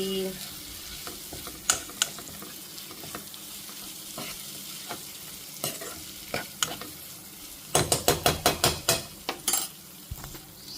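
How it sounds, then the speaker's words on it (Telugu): Young tamarind leaves fry in a pan on a home stove, with a low steady sizzle under repeated scraping stirs and a quick cluster of spoon clicks against the pan near the end, close and alone. "మంచిగా వేగాలి రెడ్ కలర్ వచ్చే వరకు వేగాలన్నమాట"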